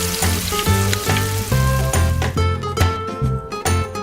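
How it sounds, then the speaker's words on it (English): A miniature egg poured into hot oil in a tiny pan, sizzling and crackling loudly and steadily throughout, with no talking. "Pour some oil in there. And our egg. Oh, just listen to that!"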